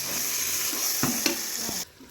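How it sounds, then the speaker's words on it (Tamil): Chopped medium-size tomatoes sauté in a pan for vegetable biryani, a steady close sizzle with a few light clicks of stirring, ending abruptly as the heat drops. "இப்போ இது நல்லா வதக்கிக்கலாம்."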